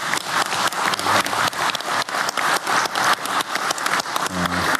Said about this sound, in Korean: 우리 대통령님과 국민을 위해 박수 한번 크게 보내주시기 바랍니다